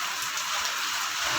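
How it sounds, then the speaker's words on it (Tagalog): Heavy rain pours down steadily, a dense, even hiss of water hitting surfaces that stays constant and fairly loud throughout, with no voices. "Lakas ng ulan."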